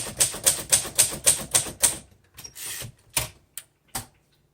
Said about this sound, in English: the Royal Quiet DeLuxe is usually an excellent typewriter